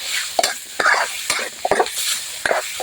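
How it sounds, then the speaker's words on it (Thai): Pork belly stir-frying with chili in a pan for a Thai mixed vegetable dish: a steady sizzle broken by repeated scraping strokes of a spatula against the pan, close and fairly loud. "หมูสามชั้นลงไปผัดกับพริกก่อน"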